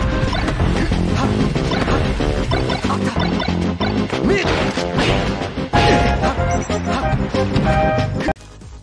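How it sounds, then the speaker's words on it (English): Super Smash Bros. Melee forward smash attacks crack out amid dense, continuous game music and crowd noise, with sharp repeated impact hits layered loudly over the busy mix. "You keep forward smashing"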